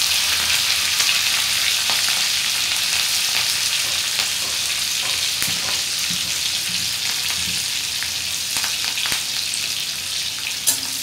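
Green chilies and cumin seeds crackle and sizzle in hot oil for a sabudana khichdi, a steady dense frying hiss running throughout with occasional brief pops and stirring clicks, close and alone without talk.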